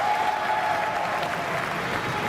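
A crowd at a 2015 Tournament of Champions squash match applauds loudly and steadily, a dense wash of clapping that fills the whole moment without pause.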